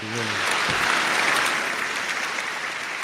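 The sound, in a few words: applause sound effect played on podcast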